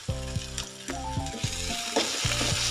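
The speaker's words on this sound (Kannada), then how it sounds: "ಈರುಳ್ಳಿಯನ್ನು ಸೇರಿಸಿ ಸ್ವಲ್ಪ ಫ್ರೈ ಮಾಡೋಣ" Two medium onions sizzle in oil with cumin for Yugadi obbattina saaru, a busy close frying hiss under loud, repeated bursts of a harmonic tone that come and go in a steady pattern.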